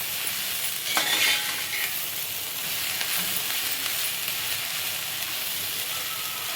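Soya chunk pulao ingredients with fenugreek leaves fry in a full pot, giving a steady close sizzle and hiss with a brief stirring scrape near the start, no voices.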